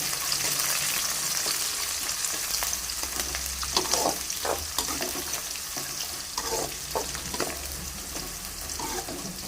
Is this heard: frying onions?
yes